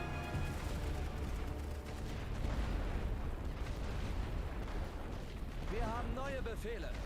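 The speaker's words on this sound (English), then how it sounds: "All right, we'll hit a suppression barrage." Artillery suppression barrage in The Great War: Western Front, a WWI trench strategy game: dense, rumbling booms and distant blasts roll continuously at low volume, with voices speaking over the bombardment.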